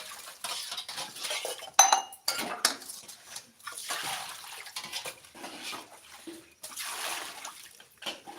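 Dishes being washed by hand in a home in rural Pratapgarh, Uttar Pradesh, with metal pots and cutlery clattering and clinking in irregular bursts over running water, fairly close and moderately loud, without speech.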